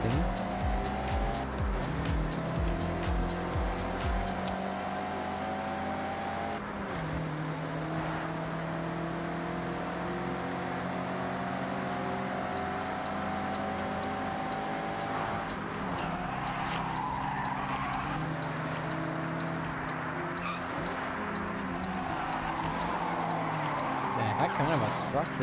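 Racing car in Forza Horizon driving fast downhill at over 100 miles an hour, its engine droning and shifting steadily for the whole stretch with occasional tire noise, loud and continuous, with voices talking at times over the engine.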